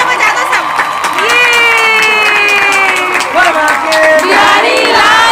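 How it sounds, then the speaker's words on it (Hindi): A crowd claps and cheers at a Tulsi Vivah festival gathering on Dev Uthani Ekadashi, a loud continuous wash of noise with voices calling out and rising shouts over it. "तालियां बजा दो सब"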